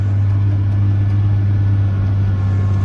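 A tractor engine pulls a Veles Agro Forward 4 m compactor uphill across a field, a loud steady low drone that holds without a break.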